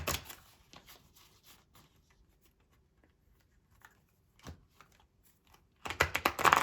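Homemade tarot deck being shuffled by hand, giving soft, irregular papery riffles and taps at low level, ending in a louder flurry of card shuffling.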